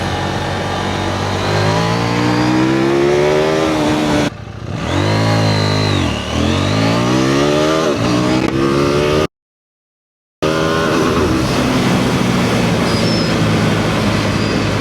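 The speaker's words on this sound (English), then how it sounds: "this was an acceleration from 0 to 100 in a street mode" A KTM 790 Duke motorcycle accelerating hard from 0 to 100 km/h in street mode, loud and close, its engine note climbing in sharp rising sweeps through several gear shifts, with a short silent gap near the end.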